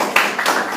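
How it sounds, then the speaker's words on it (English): A classroom of children claps briefly, a few quick, uneven claps close by, rising and falling within under a second. "Give yourselves a round of applause for doing a great job."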